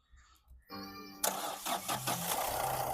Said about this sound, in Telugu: సింగిల్ సెల్ఫ్ బండి స్టార్ట్ అవుతుంది సార్